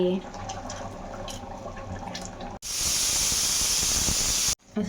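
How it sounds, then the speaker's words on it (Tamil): Spices for tempering hit hot oil for a Sunday mutton kuzhambu, giving a loud, steady sizzle and hiss lasting about two seconds, after a stretch where someone speaks over quieter kitchen sounds. "லைட்டாக தாளிச்சு அருணாள் ஸ்பெஷல் தாளிப்பு"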